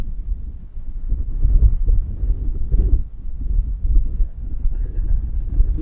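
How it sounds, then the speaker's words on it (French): Strong wind at a skimboarding spot buffets the microphone in a steady low roar with gusty swells, no voices, just continuous blustery rumble throughout. "il y a énormément de vent, je pense que vous l'entendez"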